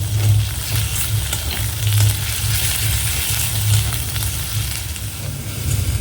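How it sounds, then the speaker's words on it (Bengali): Sliced onion fries in a battered, heavily used wok as garlic paste goes in, giving a constant loud sizzle and spatter over a low steady hum, with no talking. "পেঁয়াজটা এরকম ভেজে নিয়েছি তারপরে দিয়ে দিচ্ছি রসুন বাটা"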